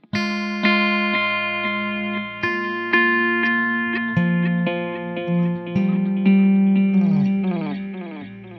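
Electric guitar through an Axe-Fx analog stereo delay set to quarter notes with high feedback, a sequence of plucked notes each trailing repeating echoes that pile up into a dense, sustained wash, alone without talk.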